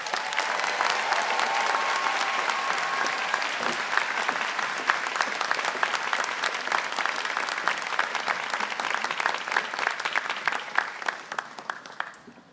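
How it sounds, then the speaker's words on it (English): A crowd at a convocation ceremony applauds warmly and steadily, dense clapping filling the room for about twelve seconds before fading out at the end. "Let's give them all a round of applause."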